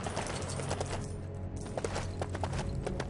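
Horse hooves galloping in the LEGO Lord of the Rings video game, a steady clip-clop that stays close and moderately loud for a few seconds, with no speech over it.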